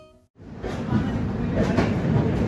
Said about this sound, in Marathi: ऑन टाइम 7:15 पुणे जंक्शनवरून आपली ट्रेन निघालेली आहे